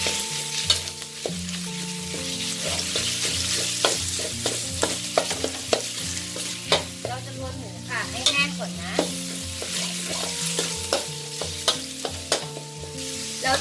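Minced pork stir-frying in a pan for a Thai home-style dish, a steady loud sizzle broken by frequent scraping and tapping of a utensil against the pan, with no talk.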